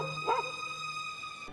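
Petey the dog gives a short, close bark in a Goosebumps episode, followed by a steady electronic hum.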